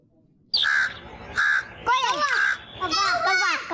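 A crow gives several harsh, nasal caws in short bursts, loud and close, with a voice talking over the later part.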